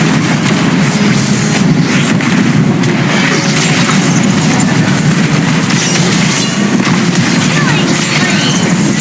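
Valir's Lava Burst skill going off in a mobile game, a loud, dense, continuous rumbling roar of fiery blasts that fills the whole span without a break.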